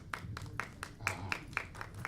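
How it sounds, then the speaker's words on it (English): Scattered clapping from a small youth group audience, a handful of distinct claps in a loose, uneven rhythm at moderate volume, fairly close, no talking over them. "You don't have to applaud."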